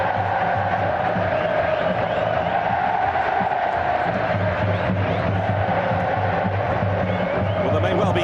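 Football stadium crowd in Brazil at a 2014 match-day game, a dense, continuous roar of cheering and chanting from thousands, loud and steady throughout.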